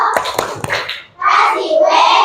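Children in a classroom clap together in a chant, giving a few quick hand claps followed by voices calling out in rhythm.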